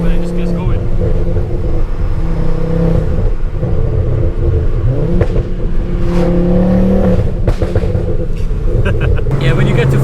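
MK2 Ford Focus RS accelerating hard from inside the cabin, its engine rumbling steadily and loud throughout with rising revs and shifting tone, while a person talks over it.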